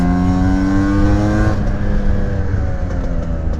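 A Genuine Stella scooter fitted with a Malossi 166 kit accelerates hard in second gear. The loud two-stroke engine whines steadily up in pitch, then the note changes and drops away as the throttle eases.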